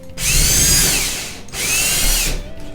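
Power drill with a drill bit boring into a mop and broom holder, two loud whirring bursts separated by a short pause, close and alone.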